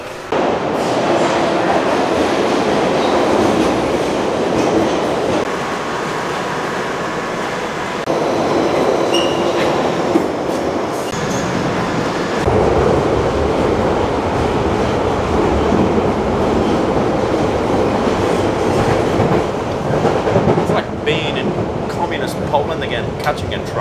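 A London Underground train rumbles loudly and steadily from inside a carriage, with rattling, clattering wheels and occasional squeals and voices underneath.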